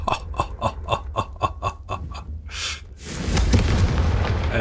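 A Confringo blast spell in Hogwarts Legacy: a run of rhythmic pulses leads into a sudden loud explosive boom, followed by a sustained rumbling roar of debris.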